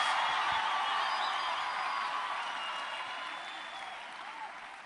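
A church congregation claps together in a sustained wave of applause that slowly fades toward the end, with faint voices mixed in.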